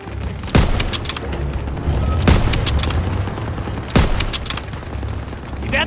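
Gunfire in the video game Call of Duty WWII, a World War II street battle: a continuous crackle of rifle and machine-gun fire with three sharp, loud shot bursts standing out at regular intervals.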